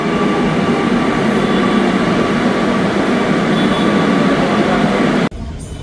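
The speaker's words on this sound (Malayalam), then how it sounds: "ഇതാണ് മെട്രോ." A metro train near Edappally station runs with a loud, steady rumble and roar of wheels on rails, heard from close by or inside the carriage, holding constant for about five seconds before cutting off abruptly.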